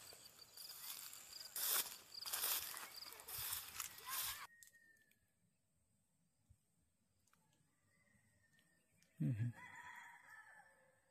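Red junglefowl crowing in forest, a few loud crows and calls in the first seconds, then quiet woodland ambience with a later short burst of calling.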